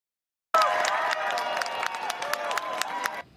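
A crowd at a Little League World Series baseball game in Williamsport erupts in applause and cheering for a Taiwanese youth team, with dense clapping and shouts that start abruptly, stay loud and fade briefly at the end.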